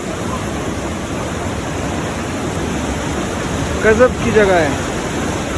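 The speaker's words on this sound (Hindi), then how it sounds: "तो फाइनली हम पहुंच गए हैं जोगनी फॉल।" Jogini waterfall in Himachal gives a constant, loud broadband rush of falling water, with someone briefly speaking over it.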